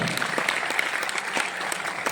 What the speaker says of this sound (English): A huge round of applause for such powerful words and inspiring words.